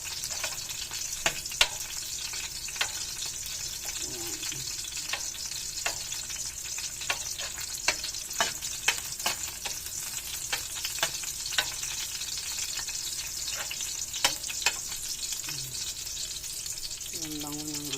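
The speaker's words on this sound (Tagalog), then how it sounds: "Pabaraw natin yung bawang para mabango, para sobrang bango." Garlic fries in a pan with a constant bright sizzle, while frequent sharp ticks and pops from spattering oil and occasional stirring scrapes run throughout. A voice speaks faintly at moments.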